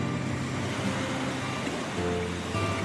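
Sea waves washing over a sandy beach at Galle Fort in Sri Lanka, a steady broadband roar of surf with no distinct breaks, moderately loud and without talk.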